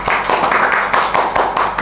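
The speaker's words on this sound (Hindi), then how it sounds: "तालियां।" Short burst of clapping in a classroom, a few pairs of hands slapping in an uneven quick rhythm, fairly close and loud, with no talk over it.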